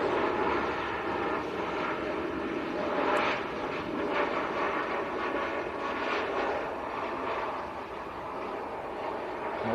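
A Ryanair Boeing 737 Max airliner at Manchester Airport, a loud broad jet engine roar that holds steady close by and fades slightly toward the end.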